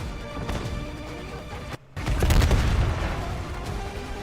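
A frag grenade detonates in Call of Duty: after a brief dropout, a loud, deep booming blast rumbles out over ongoing battlefield noise.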